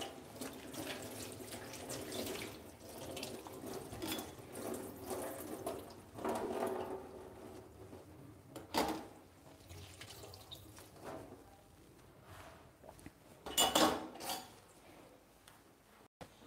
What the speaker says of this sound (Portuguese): Lavar novamente minha espátula e meu pano.